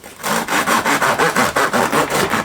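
A knife sawing back and forth through crusty wholegrain soda bread in a quick steady rhythm, about ten rasping strokes, loud and close.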